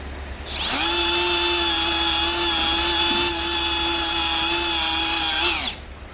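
A Ryobi One+ cordless die grinder spins up and runs at a steady high-pitched whine for about five seconds, close and loud, then winds down, with no talking.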